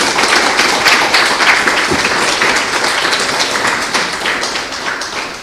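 A full round of applause from a large audience at a school scholarship award ceremony, dense steady clapping that holds loud throughout and eases slightly toward the end.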